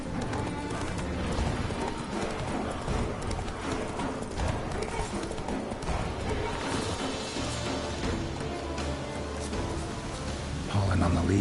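Horse hooves clip-clop steadily at a riding pace in the Witcher 3 video game, a continuous rhythmic trot under busy game ambience and speech, with a brief louder burst at the end.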